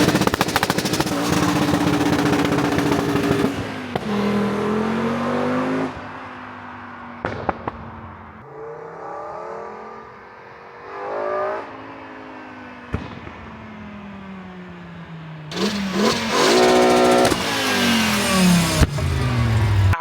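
A 5-cylinder swapped Mk2 VW Golf with an 07K engine launches at 7,000 RPM, heard from outside: a loud, raspy high-revving roar that climbs through gear changes with crackling pops, dips briefly, then surges again.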